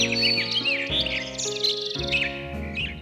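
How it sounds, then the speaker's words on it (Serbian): Forest birdsong: bright chirps and tweets repeat over a steady musical backing throughout. "Pesma ptica čini zvuke."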